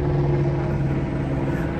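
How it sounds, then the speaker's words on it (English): Helicopter passing overhead, a steady droning rotor and engine hum that stays loud and unbroken throughout. "Got a little helicopter coming over real quick."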